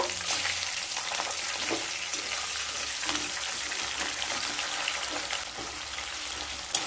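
A fish head frying in a pan for a chhyachra recipe gives a steady, dense sizzle with occasional small pops and scrapes, continuous and close, with no talking.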